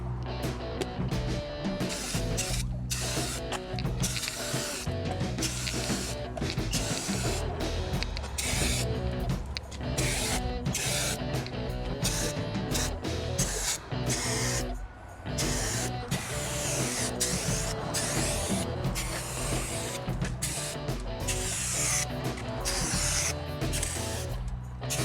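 Rust-Oleum rust paint is sprayed onto a cargo trailer in a close, continuous hissing stream broken by frequent short pauses between bursts, with no talking.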